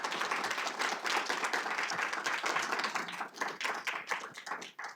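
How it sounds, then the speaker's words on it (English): An audience at a science talk in a public lecture series gives a round of applause to the speaker, a steady, dense patter of many hands that grows more ragged and sparse toward the close. "give him a round of applause for a great event"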